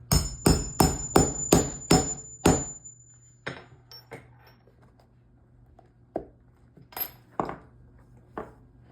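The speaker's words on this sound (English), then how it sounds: "we're gonna hit it with the hammer" Seven quick, sharp hammer blows on a boot's shoe sole in a fast rhythm, then a pause and a few scattered knocks and taps, loud and close.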